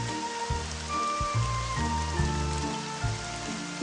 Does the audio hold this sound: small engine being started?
no